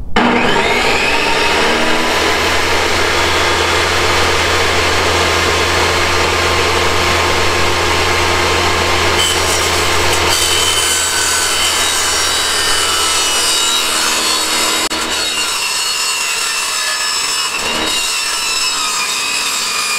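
A saw cuts through 1/2 inch conduit for a DIY greenhouse roll-up side, a loud continuous rasping drone with a steady hum running for about fifteen seconds before easing off, no voices.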